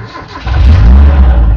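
A vehicle engine with a newly fitted alternator IC cranks briefly and catches, then settles into a loud, close, rough running rumble.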